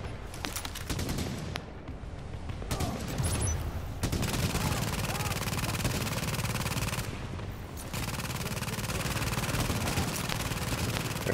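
Rapid bursts of automated turret gunfire rattle in the video game Tom Clancy's The Division, sustained volleys with brief gaps, loud and close.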